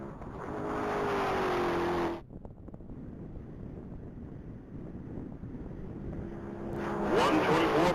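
A car makes a top speed pass at the Texas Mile, a distant engine roar rising and fading under heavy wind buffeting, followed by a steady rumbling stretch and a louder swell near the end.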